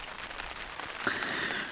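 Rain falls on a tent in a mountain camp, a steady close hiss of pattering drops with a brief sharper tap partway through, no voices.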